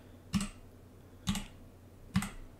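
Three separate presses on a Motospeed mechanical numpad with Outemu Red linear switches, each a sharp close click with a soft clack after it, spaced about a second apart, alone.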